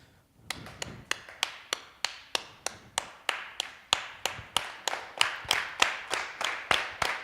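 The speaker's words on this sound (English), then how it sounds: "So on this side, I'm gonna ask you to clap one rhythm" Audience on one side of a room clapping a steady rhythm together, about twenty sharp unison claps spaced evenly and building slightly in loudness, with no voices over it.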